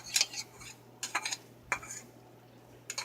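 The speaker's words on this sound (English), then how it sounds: "what I'm going to do is I'm going to go ahead and add my garlic" Garlic goes into a pan of simmering vegetables for a purple hull peas and sausage hash, heard as a few distinct close clinks and scrapes of a utensil against the pan with short gaps between them.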